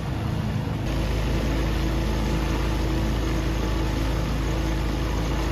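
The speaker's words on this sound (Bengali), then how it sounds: "বোটের ইঞ্জিনের শব্দ শুধু" A boat engine runs steadily on open water during a river or lake outing near Koraput, a continuous mid-pitched drone with constant loudness throughout and no voices.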